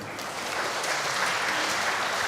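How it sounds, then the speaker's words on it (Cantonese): An audience claps at a children's choir Christmas concert in a church hall in North Point, Hong Kong: dense, steady applause from many hands filling the room, sustained and fairly loud throughout. "我哋都俾啲掌聲佢哋啊"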